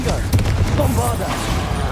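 Confringo and Bombarda spells blasting in Hogwarts Legacy, a sharp burst followed by a rumbling fusillade of game explosions, with a voice speaking over part of it.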